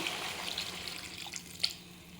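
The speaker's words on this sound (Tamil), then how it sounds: "இது தண்ணி சேர்த்துப்போம்" Water poured from a tumbler into a simmering tomato curry base for vada curry, giving a faint, steady, soft splashing hiss that runs through the moment.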